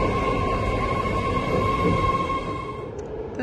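A train passes by at close range, a steady loud rumble of wheels and rail noise with a sustained tonal whine, fading slightly near the end.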